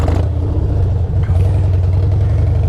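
A Harley motorcycle engine revs hard and loud up close during drift practice, a deep pulsing roar that dips briefly and surges back.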